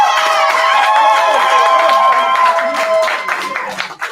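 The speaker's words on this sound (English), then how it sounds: "while we clap it up for him" Graduation ceremony audience in Atlanta clapping and cheering loudly, with shouts and whoops rising over steady applause, fading toward the end.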